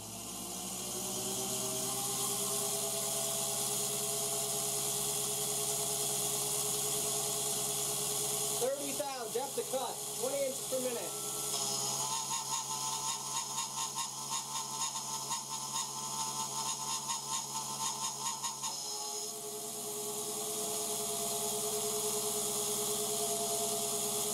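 A MAXNC mini mill spindle runs at a higher RPM, about 9,000, cutting a 3D-printed pulley. It makes a steady high-pitched whine and hum with a brief burst of chatter and changing tone mid-run.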